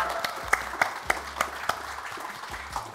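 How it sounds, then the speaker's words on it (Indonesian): Applause from a studio audience at an Indonesian talk show sounds scattered and moderately faint, with a few sharp individual claps standing out at a loose rhythm over a softer background of hands. "Boleh tepuk tangannya sekali lagi"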